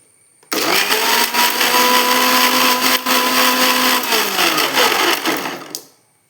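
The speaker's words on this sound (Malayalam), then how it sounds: "ഇനി നമുക്ക് ഇത് അരച്ചെടുക്കാം ജ്യൂസ് അരച്ചെടുക്കാം" An electric blender grinding bitter gourd into juice, starting abruptly into a loud, steady, high whirring roar that holds for about five seconds, then winds down and stops.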